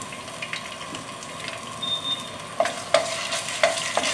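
Garlic and ginger stir-fry in vegetable oil in a hot skillet on high heat, a soft ongoing sizzle broken by sharp metallic scrapes and clinks of a spatula, growing more frequent toward the end.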